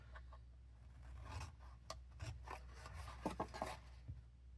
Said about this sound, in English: So I'm cutting up on all my score lines.